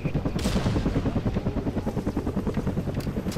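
Helicopter rotor chopping in the shooter game Call of Duty Vanguard, a steady rapid thumping pulse throughout, fairly loud and close, with some gunfire-like bursts mixed in.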